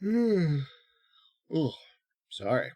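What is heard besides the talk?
yawn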